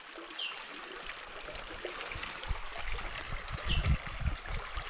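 Clear stream water trickling through a semi-rainforest, a soft continuous babble with light gurgles, fairly close and steady, no voices.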